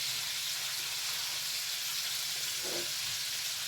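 Food browning in a frying pan sizzles in a steady, even hiss that holds throughout with no break, close and moderately loud.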